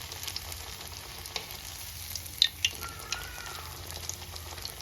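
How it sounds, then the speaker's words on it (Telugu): Banana flower vadai fry in oil with a soft, steady sizzle, close but quiet, broken by a few small pops and clicks. "రెండు వైపులా తిప్పుకొని వేయించుకోండి"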